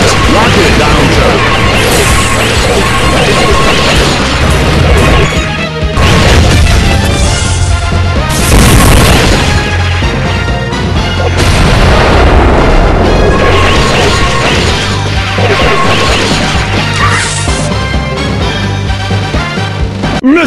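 Heavy machine gun and rocket launcher fire in the Metal Slug video game: a loud, dense, continuous barrage of gunfire bursts and explosive booms under game music, with game voice announcements mixed in.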